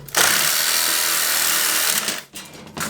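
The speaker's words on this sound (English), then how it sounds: "just grab the Sawzall and you can cut it" A Sawzall reciprocating saw cuts through MC cable, a loud, harsh, buzzing rasp running steadily for about two seconds, then cutting out briefly and starting up again.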